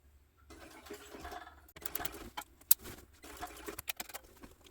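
A sewing machine stitches an Oxbow tote bag, overnight size, starting behind a handle; uneven bursts of mechanical whirring and clatter come up close after a quiet start, with short pauses and sharper clicks between runs.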